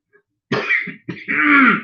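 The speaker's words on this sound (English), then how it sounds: "It's a cough and have mucus." Two rough, wet coughs in quick succession, close and fairly loud, with a brief pause between them and no other sound around.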